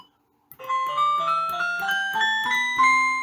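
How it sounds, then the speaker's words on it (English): Music box voice on a VOGURTIME DIY soldered electronic piano kit: a short, bright, chiming tinkly melody of rising and falling notes, close and clear, beginning after a brief silence. "music box,"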